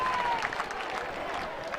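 A crowd at a football match applauds a goal kick with steady clapping and crowd noise, fairly distant, while a commentator's voice talks over it.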